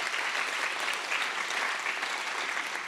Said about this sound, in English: let's give everyone who's participating tonight a big round of applause before they get started